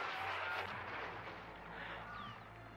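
Blaster gunfire in a Star Wars Battlefront 2 battle, a dense, distant-sounding barrage of shots and booms rumbling continuously at low level.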